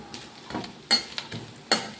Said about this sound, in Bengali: আর নারকেলটা ভেজে নেবো ততক্ষণ ধরে